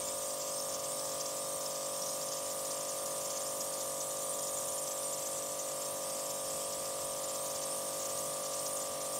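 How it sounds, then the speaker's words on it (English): A pressure washer on a fan setting rinses brake dust off car wheels, producing a steady, loud hissing spray over a constant pump whine that runs unbroken from start to end, with no talking. "I'm using a pressure washer to remove all this with a fan setting"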